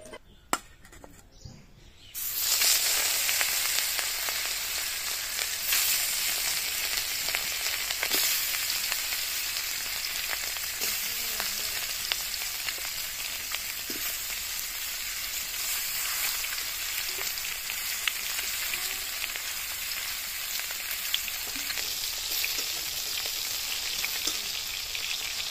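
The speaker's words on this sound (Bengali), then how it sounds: "এখন কিন্তু আমি মাছটা ভাজি করে মাছের ঝোলটা করব" Fish sizzles in hot oil in a pan in a home kitchen, a steady, bright crackling hiss that starts abruptly after a brief quiet moment and continues evenly, with occasional small pops and faint bird calls in the background.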